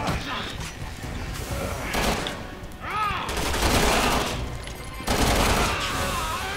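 Gunfire in the co-op shooter Resident Evil 6: dense, sustained bursts of shots and impacts during a firefight, loud and continuous with brief swells, with game effects layered underneath.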